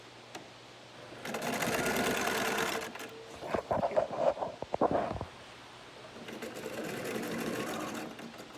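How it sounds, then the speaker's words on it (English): A sewing machine stitching a strap onto a fabric mask, close whirring bursts of fast mechanical stitching, first a steady run, then short stop-start pulses, then another steady run, with quiet pauses between. "I'm trying to sew one-handed"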